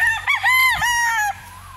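A single loud, close rooster crow rings out at a chicken farm, a rising then sustained call lasting under two seconds, with faint background clucking.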